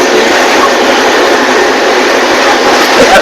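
Jabalpur–Raipur express train running at about 115 km per hour, a steady loud rushing roar of wheels and carriage noise from inside, with no pauses.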